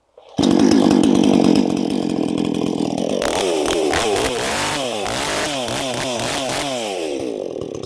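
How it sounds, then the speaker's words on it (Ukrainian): A Vitals BKZ 5634j petrol chainsaw is pulled and roars to life, then runs loudly with the engine revving up and down, close by. "пилку легко заводити без проблем, без якихось зусиль"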